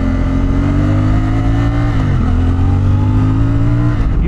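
A 2024 CF Moto 450MT motorcycle engine revs loudly and steadily up close, its exhaust note holding through a brief dip and recovery of revs.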